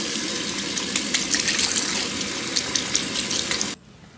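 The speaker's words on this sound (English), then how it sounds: "I'm gonna switch out the water for some clean water." Water pours steadily into a container for several seconds while brush bristles are cleaned, a bright, splashing rush at close range that cuts off abruptly near the end, leaving silence.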